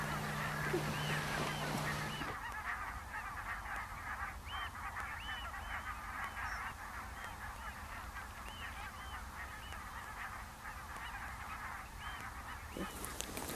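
A flock of wintering geese, pink-footed or greylag, honking repeatedly in a steady chorus of overlapping calls over the Solway Plain, fairly faint and distant with no voices.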